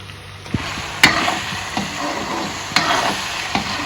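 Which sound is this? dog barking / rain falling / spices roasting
spices roasting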